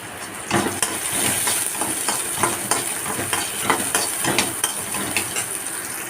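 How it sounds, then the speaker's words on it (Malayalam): Curry leaves sputtering and sizzling in a hot pan of oil while making coconut chutney, a steady close crackle with scattered sharp pops throughout, no talking. "ഇനി ഇതിലേക്ക് ഞാൻ വേപ്പിലാണ് ഇട്ട് കൊടുക്കുന്നത്"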